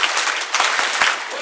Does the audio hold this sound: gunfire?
no